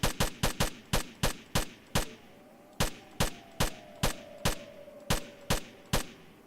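Gunfire at zombies in the video game S.T.A.L.K.E.R.: Shadow of Chernobyl, Yantar area: about sixteen sharp shots in two rapid bursts with a brief pause between them, loud and close, over a low ambient hum with no talking.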